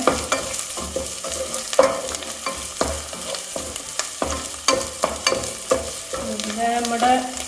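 Green chillies sautéed with ginger and garlic in a pan for a Kerala chicken dish, a steady crackling sizzle under repeated close scraping stirs in an even rhythm.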